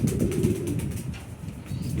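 Pigeons of several breeds at a pigeon farm, cooing and rustling in a low continuous murmur with some wing flutter, close and without speech.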